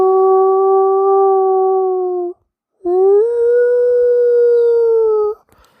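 A dog howls in two long, loud, sustained tones with a brief silent gap between them, the second howl rising slightly and holding before ending abruptly.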